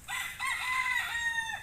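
A rooster crows once, close and loud, in a single drawn-out cock-a-doodle-doo lasting under two seconds.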